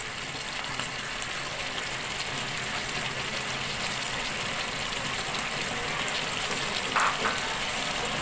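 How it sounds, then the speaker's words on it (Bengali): Tripe stir-fries in a pan with garlic, onion paste and mustard oil, giving a steady, moderately loud sizzle with faint occasional stirring scrapes and no voices. "পেঁয়াজের পেস্ট 1 টেবিল চামচ, সরষের তেল 1 চা চামচের মতো দিয়ে একটু ঘুনাঘুনা করব"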